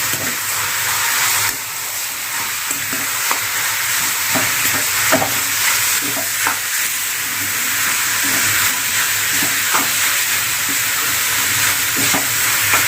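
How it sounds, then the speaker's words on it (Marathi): Beetroot and carrot fry in a pan while being stirred, a loud steady sizzle and hiss broken by repeated scraping strokes of the spatula throughout, with no speech. "आणि हे मस्त असं हलवून घेऊया आपण छान छान पद्धतीने असं हलवून घेऊया"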